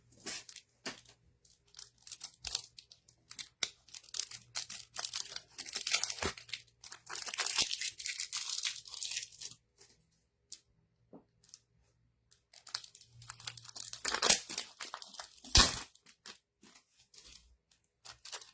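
Crinkling and tearing of Pokémon card pack foil wrappers being opened up close, in irregular bursts with brief pauses and a couple of sharper rips toward the end.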